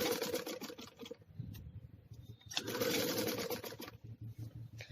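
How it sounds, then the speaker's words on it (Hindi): Sewing machine stitching a net boat-neck blouse close to the piping, running in two steady whirring bursts with a brief pause between, close by. "बिल्कुल पाइपिंग के पास में हमारी स्टिचिंग आएगी"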